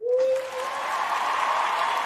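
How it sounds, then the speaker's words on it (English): Applause rises from an audience, a dense steady wash of clapping with a thin sustained tone at the start that fades after half a second. "I got you the applause."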